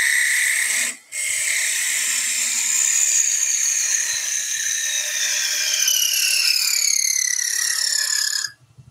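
A wood lathe spins a workpiece while a small 6 mm parting tool cuts a tenon, a steady high whine and hiss of cutting that runs continuously after a brief pause near the start, close and fairly loud.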